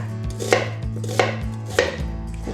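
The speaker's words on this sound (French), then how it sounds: "Je vais les découper en morceaux avec 50 g de l'ail" Garlic is chopped into pieces with a knife on a board for a Korean LA galbi marinade, with three crisp, evenly spaced knife strikes and a steady hum in the background.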